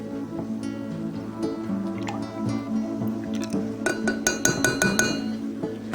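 Eggs and heavy cream mixed in a container, with light clinks and taps of a utensil against glass, a quick run of rapid clinks toward the end, close and fairly quiet.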